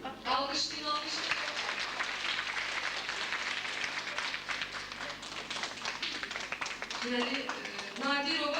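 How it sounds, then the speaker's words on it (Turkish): An audience at a children's New Year festivity applauds, steady dense clapping throughout with voices and cheers mixed in and speech rising over it near the end. "Alkışlayın, alkışlayın."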